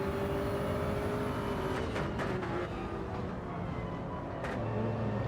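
A Subaru BRZ race car engine in a sim racing game at Watkins Glen drones steadily at high revs, with a continuous whine and brief shifts in pitch, loud and unbroken with no voices.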